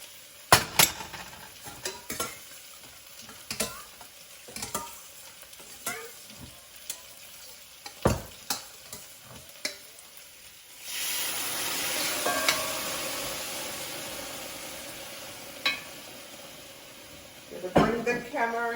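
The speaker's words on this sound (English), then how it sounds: "I have boiled water in my kettle, So I'm going to use it to wash out this and pour it in there." Boiled water from a kettle splashes into a hot stew pot of smoked turkey neck, setting off a loud, sustained sizzle after a stretch of scattered clinks and knocks of utensils.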